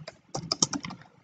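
A short command is typed on a computer keyboard, a quick cluster of close, quiet key clicks lasting about a second.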